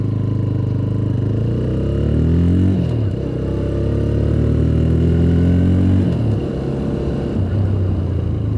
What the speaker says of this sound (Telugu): చాలా స్మూత్గా ఉంది ఇంజిన్ అయితే.